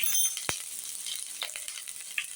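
Dhoka dalna mixture frying with ginger paste in a pan gives a steady close sizzle with a few sharp clinks of a spatula against the pan.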